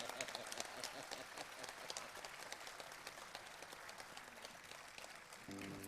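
Applause in an Italian concert hall for a newborn baby girl: steady, fairly faint clapping fills the whole stretch, scattered sharp claps over a soft crowd wash, with a brief tonal sound entering at the very end.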